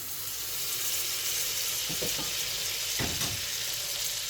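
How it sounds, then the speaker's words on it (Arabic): Butter sizzles steadily in a hot pot, a constant frying hiss with a couple of faint stirring scrapes partway through. "اول ما الزبده تسيح معانا بالشكل ده"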